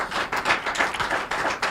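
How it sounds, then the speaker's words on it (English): An audience at the Brekete Family program claps for Naptip in a short, full burst of applause lasting under two seconds. "Make we clap for Naptip again."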